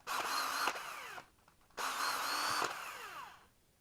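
A power drill whines at high speed for over a second, stops abruptly as it locks up, then runs again in a second long burst before winding down and going quiet.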